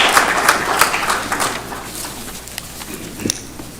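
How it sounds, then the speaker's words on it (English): Audience applause at a school board meeting, a burst of clapping with sharp individual claps that thins out and fades to a few scattered claps by the end. "May we have another round of applause for the ladies"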